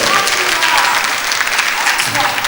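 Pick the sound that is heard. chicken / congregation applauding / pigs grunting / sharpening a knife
congregation applauding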